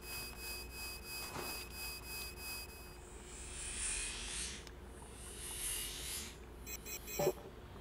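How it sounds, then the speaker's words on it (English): Short electronic blips pulse in a steady run as a shield recharges in Horizon Zero Dawn: The Frozen Wilds, then a soft rising whoosh, then a final cluster of quick chiming blips over quiet game ambience. "That blip sound you're hearing is my shield recharging."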